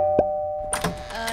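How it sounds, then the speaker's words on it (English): A short chime rings once in a cartoon over a faint background hum, then a brief rustle of clattery sound follows. "How dare you lie and say I didn't ring the doorbell?"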